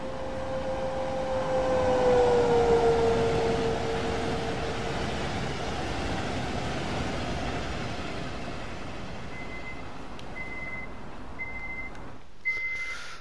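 Passing train in the railway simulator Train Sim World 2, Rhein-Ruhr Osten route in Germany: a steady rumbling roar with a descending tonal whine early on, then a run of short repeated beeps near the end, with no talk.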